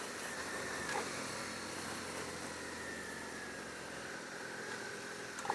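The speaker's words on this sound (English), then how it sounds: "It has that kind of like intake sound, that kind of snarling intake sound." A 2018 Suzuki SV650 motorcycle engine runs with a steady, snarling intake drone, fairly quiet and continuous throughout.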